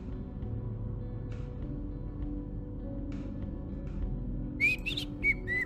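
Several short whistled notes near the end, bright and rising, over a steady low background hum.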